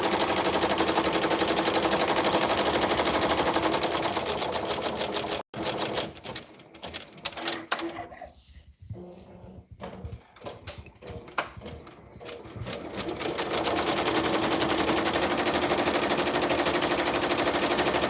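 An embroidery sewing machine stitches out a design, a loud rapid mechanical chatter that runs continuously, breaks into a stuttering, uneven patch midway, then settles back into its steady fast rhythm; no speech.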